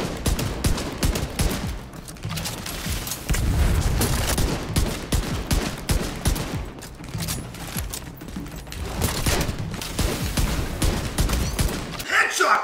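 Rapid bursts of gunfire in The Division 2 Dark Zone PvP, sharp repeated shots and automatic volleys in uneven clusters, loud and close, with someone shouting between them.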